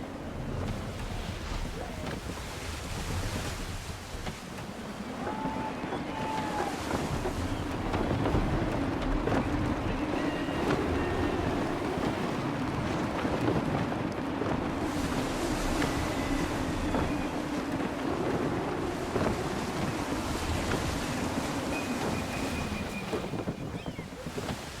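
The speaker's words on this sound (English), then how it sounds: "Gusty winds can be difficult to manage." Steady wind and rolling ocean surf while sailing a ship in Assassin's Creed 3, a continuous close wash of water and gusting air with faint creaks and tonal cues from the vessel throughout.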